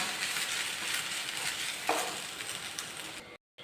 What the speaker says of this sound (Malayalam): തേങ്ങ നല്ലൊരു ഗോൾഡൻ കളർ ആകുന്നിടം വരെ വറുത്തെടുക്കണം